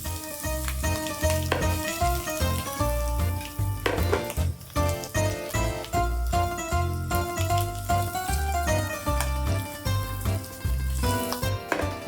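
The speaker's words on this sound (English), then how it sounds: "It's time to put up the temperature to the max, and we really want to roast them until they are golden brown" Mushrooms roast in butter and oil in a pan over maximum heat, giving a steady, continuous sizzle beneath prominent background music with a rhythmic bass line throughout.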